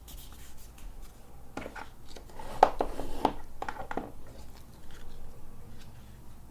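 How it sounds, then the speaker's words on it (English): A sheet of card paper is folded in half by hand, giving a few soft, crisp crinkles and creasing rubs close by in a quiet room, with no talking. "fold it in half first"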